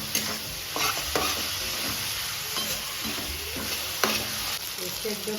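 Prawns fry in a pan with a constant sizzle, as a spoon repeatedly scrapes and stirs them in short bursts, close and clear with no talking.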